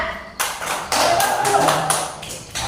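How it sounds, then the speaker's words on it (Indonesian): Students in a classroom applaud a classmate: a steady wash of clapping starts abruptly and holds for a couple of seconds, close and fairly loud. "Beri aplaus dulu buat temannya."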